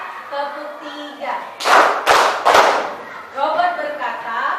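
A classroom of pupils claps along in a robot-says game, with three loud bursts of clapping in quick succession between stretches of a teacher's voice.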